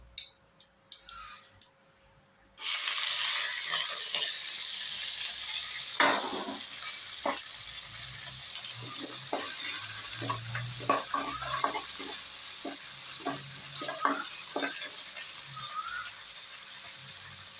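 Chopped vegetables go into hot oil right after mustard seeds have popped, bringing a steady loud sizzle that follows a few sharp pops and spatters, with repeated utensil scrapes and taps on the pan throughout.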